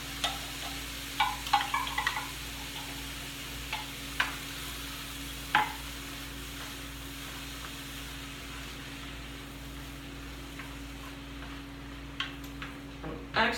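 Portuguese peas with tomato sauce from an 8-ounce can cook in a pot, with a low steady sizzle under scattered clinks and scrapes of a spoon stirring, fairly quiet and close.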